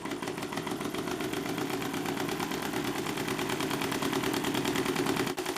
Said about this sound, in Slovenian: Zdaj, ko se motor vrti s 588 vrtljaji na minuto